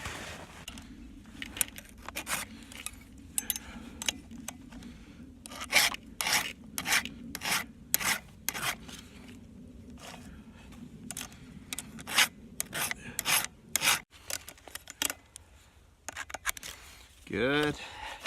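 Chainsaw teeth and rakers being filed by hand: repeated sharp rasping strokes in quick bursts separated by short pauses, with a brief voice at the very end.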